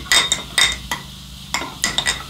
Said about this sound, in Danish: Man rører rundt.